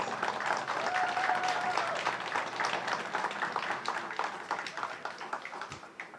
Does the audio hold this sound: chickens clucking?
no